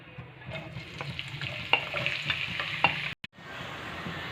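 Sliced medium onions fry in half a cup of hot oil, a close, steady sizzle with scattered spits and crackles, broken by a brief sharp drop near the end.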